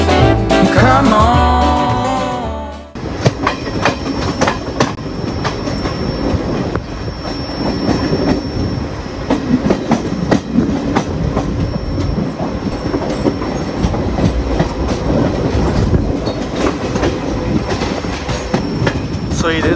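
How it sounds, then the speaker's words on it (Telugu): Passenger train running on rails through forest in India, a loud steady rumble with rhythmic clickety-clack of wheels and occasional squeals, heard from on board after music cuts off at the start. "let's ride this train."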